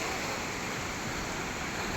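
Water rushing through a wide canal off the river at Harike Pattan, a dense, steady roar close by with no pauses or talk.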